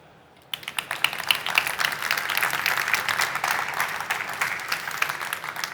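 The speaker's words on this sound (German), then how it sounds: "Gerne nochmal euer Applaus für Thomas Herder" An audience applauds loudly and steadily for Thomas Herder, technical director of Berlin's Friedrichstadt-Palast, the dense clapping bursting in suddenly and holding through to the end.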